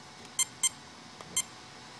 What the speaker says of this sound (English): So now I got two beeps, two beeps.